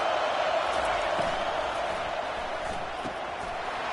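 Stadium crowd roar from an NCAA college football video game, a steady dense wash of cheering and noise that fills the whole stretch at even loudness, with no clear speech on top.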